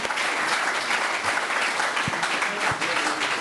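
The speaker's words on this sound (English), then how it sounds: "A big applause to all of us here for this fantastic morning." Audience at a business ethics conference in Bled, Slovenia applauding together, loud and dense clapping that fills the room without pause from start to finish.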